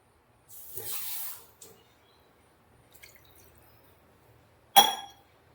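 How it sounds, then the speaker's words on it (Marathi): Water poured into a hot pan while cooking Konkani chicken vade: a hissing, sizzling gush lasts about a second, followed by fainter sizzles and a sharp final splash-hiss near the end, otherwise quiet. "आणि आता टाकून पाणी टाकायचं."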